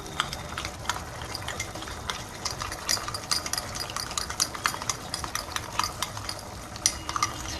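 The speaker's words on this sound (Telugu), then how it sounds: "ఉంట లేకుండా బాగా మిక్స్ చేసుకోవాలి" A spoon stirs gram flour and water into a batter, giving steady close scraping and clicking strokes against the bowl, with a faint background hum throughout.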